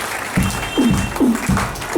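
An audience at a Nijdham ashram gathering in Surat claps in a steady, rhythmic beat, several claps per second, fairly close and mixed with voices.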